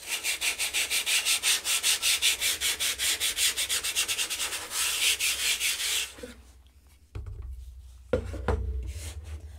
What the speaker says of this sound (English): So I'm just going to gently sand this.